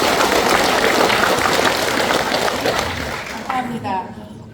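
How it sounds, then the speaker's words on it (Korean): An audience applauds at the opening of an academic seminar, sustained clapping from many hands that holds steady and then tapers off before a voice begins speaking. "다 함께 박수를 치겠습니다."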